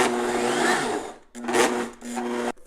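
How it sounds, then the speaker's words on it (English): A food processor whirs in short pulses, blending cookie crumbs with melted butter into a crust, a loud close motor drone that cuts out and restarts three times. "I'm going to add about half of this in and pulse again"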